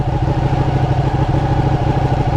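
A Ducati 959 Panigale superbike engine idling close by, with a loud, steady, rapid lumpy throb and mechanical clatter that holds even across the short stretch, with no talking.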